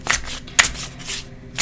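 A deck of playing cards with worn gilded edges being shuffled in small sections by hand, giving two or three quick riffling bursts of crisp paper flutter close to the listener, with no talking.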